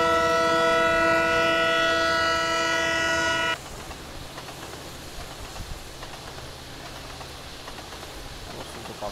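A loud train horn blares steadily for about three seconds as an express train passes a crossing, then cuts off, leaving the rumble and clatter of rolling wagons.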